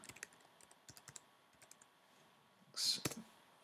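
Crisp clicks of a computer keyboard as a search is typed, irregular bursts of quick keystrokes with a short pause and a louder sharp click near the end, close and quiet.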